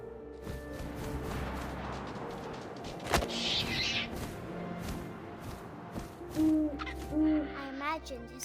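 An owl hoots in the video game What Remains of Edith Finch, a clear hooting call rising over a steady windy outdoor ambience, with scattered rustles and a sharp thump partway through.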